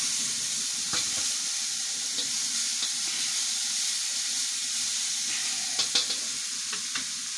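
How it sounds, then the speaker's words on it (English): Kale stirred in a hot pan gives a steady, moderate hiss of frying, with a few light scrapes and clicks of the utensil scattered through it. "So I'm going to add in the kales to give that a quick stir."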